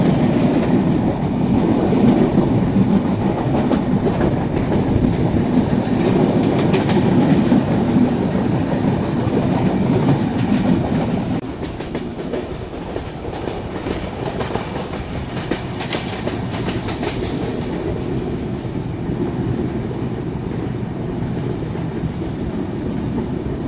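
Heard from on board, the Panchagarh Express rolls over the rails through Tilakpur station with a loud, continuous clickety-clack and rumble that eases slightly to a steadier drone partway through.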